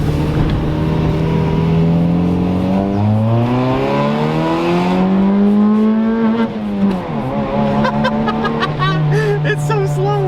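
A Honda Civic's exhaust drones steadily while the car drives, its note rising and falling with shifts and throttle, loud and close inside the cabin, with people talking over it.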